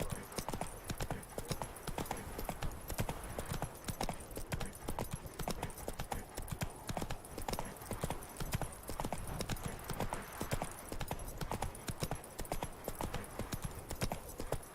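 Roach, the horse in The Witcher 3 Next Gen Complete Edition on PC, trots with a continuous rapid clip-clop of hooves at moderate volume, briefly under faint game voices.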